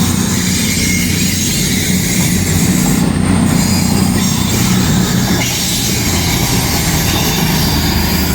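A train rolls loudly and close through Stockport station, its wheels squealing and rumbling in a steady roar with a faint clickety-clack for the whole stretch.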